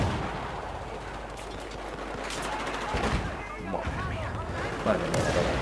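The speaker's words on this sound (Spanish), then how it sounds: "está disparando ya" Battlefield 4 gunfire crackles in scattered bursts across a dense, noisy battlefield mix, with sharper shots near the three- and five-second marks and someone talking over the action.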